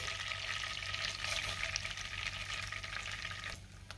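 Cumin seeds crackle and fry in melted butter for street-style paneer pav bhaji, a dense close sizzle that drops off sharply near the end, with no talk.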